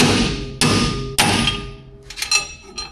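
A hammer striking a wheel stud to knock it out of a brake rotor on a 1972 Ford Courier, heard as two sharp, loud metallic blows followed by lighter ringing taps, close up with no talk.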